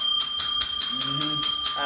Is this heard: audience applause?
no